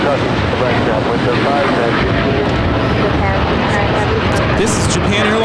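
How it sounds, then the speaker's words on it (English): Japan Airlines Boeing 787-9 Dreamliner taking off from LAX for Osaka: a loud, dense, continuous jet roar at close range, sustained evenly throughout with heavy low-end rumble. "This is Japan Airlines Flight 69 taking off to Osaka on the 787-9 Dreamliner."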